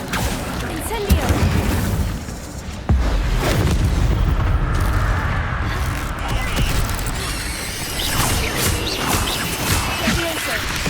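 Incendio fire spell effect in the Hogwarts Legacy video game, heard as loud whooshing bursts and booming blasts with crackling combat crashes, mixed with talk and game sounds.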